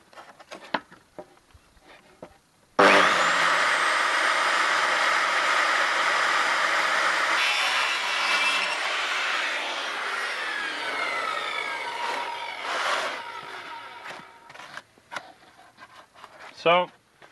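A power saw cuts through wood for a two-tone coat rack. Brief quiet talk comes first, then the loud whining cut starts abruptly and runs for about eleven seconds before winding down, followed by light handling noise.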